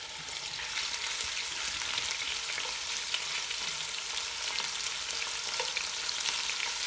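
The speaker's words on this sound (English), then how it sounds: "I hear a sizzle." Steady, bright sizzling of shrimp frying in a hot pan, continuous and close with faint crackles throughout.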